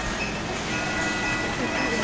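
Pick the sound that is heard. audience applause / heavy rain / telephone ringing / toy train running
toy train running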